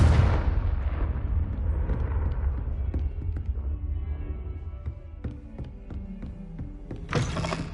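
A Confringo blasting spell explodes in Hogwarts Legacy with a heavy booming blast at the start that rumbles and decays over several seconds, scattered debris thuds following, and a second burst near the end.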